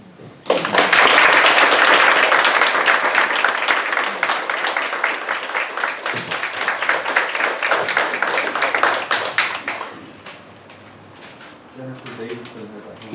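An audience claps at a retirement event for Dr. Robert J. Russell, loud sustained applause filling the room for about nine seconds before thinning out, with faint voices underneath as it fades.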